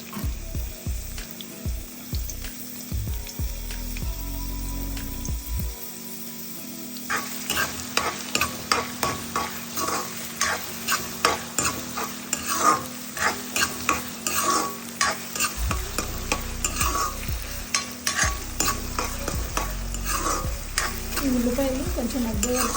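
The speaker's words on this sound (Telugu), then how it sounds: "దీంట్లోకి సన్నగా తరిగిన ఉల్లిపాయలు వేసుకుందాం అలానే కట్ చేసుకున్న పచ్చిమిర్చి" Sliced onions and green chillies frying in a pan: a loud, close sizzle that flares when they go in, then repeated stirring scrapes in a steady rhythm over the continuous hiss.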